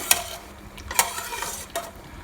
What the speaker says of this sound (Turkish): Önce bir karıştırayım